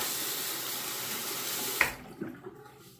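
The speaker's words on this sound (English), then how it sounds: "let me wet the razor here" A bathroom tap runs to wet a Feather adjustable razor, a steady close hiss of flowing water that cuts off sharply, followed by a few faint knocks and drips.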